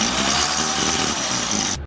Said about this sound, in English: just go ahead and start drilling onto the concrete